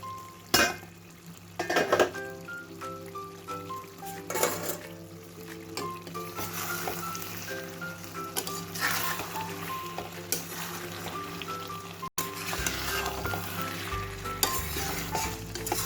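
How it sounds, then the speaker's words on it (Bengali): Mutton sizzles and fries in a kadai while a spatula scrapes and clinks against the metal, with steady frying underneath and repeated stirring knocks close by. "আমি এইভাবে কড়াতেই আস্তে আস্তে ঢেকে ঢেকে মাংসটাকে সিদ্ধ করে নেব।"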